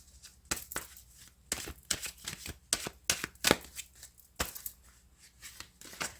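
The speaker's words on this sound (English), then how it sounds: "we're going to shuffle and throw a card on each" Tarot cards being shuffled: repeated crisp riffles and soft slaps in irregular bursts, close and fairly quiet.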